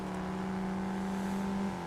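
Engine of a Shelby Cobra Mustang in the racing game Test Drive Unlimited Solar Crown, a steady deep idle-to-rev drone with a sustained low hum, close and even throughout, no talking.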